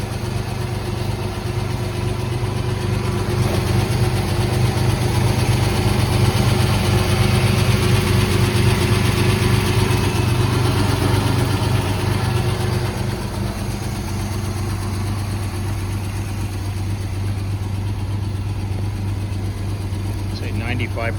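A 1958 Jaguar XK150 engine idles steadily after a cold start with an even, low rumbling hum, constant and close throughout.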